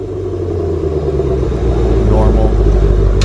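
A 2020 Shelby GT500 with its active exhaust set to quiet mode runs at a steady, subdued idle, a low continuous rumble that stays even and close for about three seconds.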